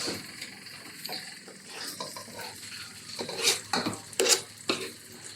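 A utensil stirs tapioca into sausage biryani in a pot, giving a series of scraping, clattering strokes that grow louder and sharper toward the end, with no talking.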